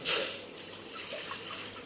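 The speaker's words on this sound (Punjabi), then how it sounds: "ਇਹਦੇ ਵਿੱਚ ਆਪਾਂ ਪਾਣੀ ਪਾ ਦੇਾਂਗੇ" Water pours into a bowl for macaroni in a home kitchen, a steady close trickle and splash that is loudest at the start and then settles into a softer, continuous run.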